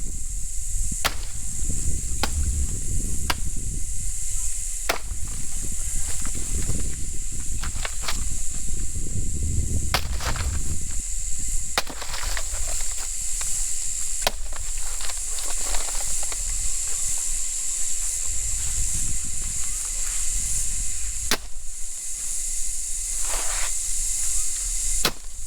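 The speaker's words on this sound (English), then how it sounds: "And then chopping up the chicken food." Repeated sharp chops of a blade cutting through banana plant stalk for chicken feed on a tropical homestead, irregular strikes close by over a steady high insect or bird drone outdoors.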